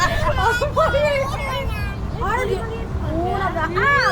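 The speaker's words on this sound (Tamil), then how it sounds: "பூனை" A cat meows repeatedly in short, rising and falling cries, close and loud, while several people talk and laugh around it in a busy setting.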